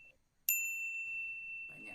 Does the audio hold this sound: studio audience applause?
no